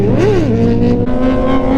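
A sport motorcycle with an aftermarket exhaust, ridden alongside an M1000RR, GSX-R1000 and MT-10, accelerates hard in a loud, close engine roar whose pitch climbs and dips between gear changes.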